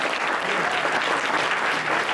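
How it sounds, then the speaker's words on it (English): An audience at a legislative night event applauds, a thick, continuous wash of clapping that stays loud and even for the whole stretch. "Let's give them a round of applause"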